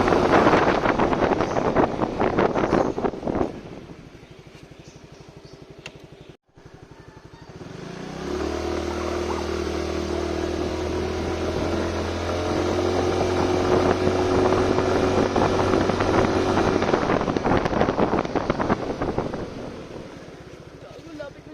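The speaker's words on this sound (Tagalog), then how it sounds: "Ang huli naming sinubukan para sa test ay ang kanyang front brake at ang kanyang rear brake." A Suzuki Skydrive Crossover scooter rides past and is put through front and rear brake tests, with engine revving and wind noise, a steady droning pass, then a fading engine note, with a voice talking over parts of it.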